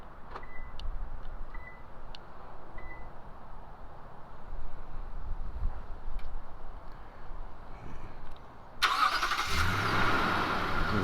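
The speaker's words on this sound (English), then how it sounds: "This proximity key should start the vehicle." A 2021 Toyota Tundra Limited Nightshade starts by remote key fob: a long stretch of quiet outdoor ambience, then near the end a sudden loud engine start and steady idle rumble close by.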